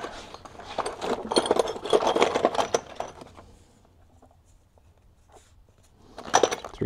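Old threads being chased with a hand tap from a messy toolbox, giving bursts of close scraping and rasping metal on metal, busy for about three seconds, then near silence and another short burst.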